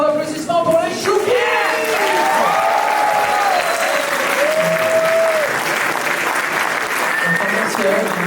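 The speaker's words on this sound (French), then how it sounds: "Encore un tonnerre d'applaudissements" Loud, enthusiastic applause from a crowd, mixed with cheers and whoops, continuing steadily for several seconds.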